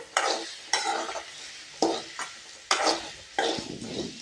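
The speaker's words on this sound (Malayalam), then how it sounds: "ഇപ്പോൾ മുളകും കടലപ്പരിപ്പൊക്കെ വറുത്ത പോലെ നമുക്ക് വറുത്തെടുക്കാം" Dried chilies and chana dal scraped and stirred around a hot pan in repeated strokes for sambar powder, a rough rattling hiss with each push, close by and without speech.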